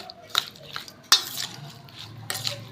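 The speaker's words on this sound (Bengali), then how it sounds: "এবার আমি ভালো করে এটাকে মিশিয়ে নিচ্ছি" A spoon stirs and mixes lime pickle ingredients in a bowl, giving a few sharp scraping clinks spaced across a quiet, close background, with no talking.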